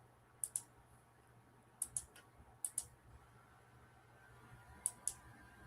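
A computer mouse clicks in four quick pairs of sharp, light double-clicks spaced a second or so apart, close but quiet against a soft hum, with no speech.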